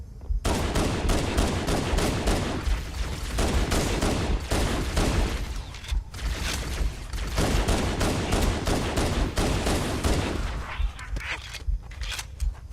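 Gunfire from the Halo: Combat Evolved video game comes in dense, rapid bursts of shots and explosive thuds, loud and nearly continuous with brief gaps, mixed with in-game effects.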